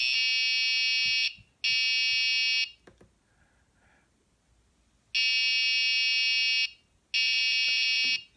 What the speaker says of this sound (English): Now I'm going to shift to alarm level 2.